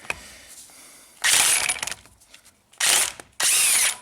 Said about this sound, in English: Let's see if we can break this nut off.